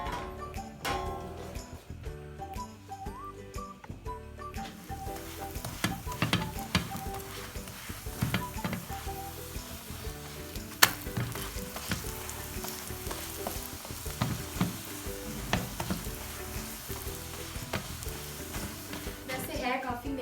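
Lachha paratha roll filling frying steadily in a pan, a continuous sizzle with crackles running through the clip and a softer start, with faint background sounds.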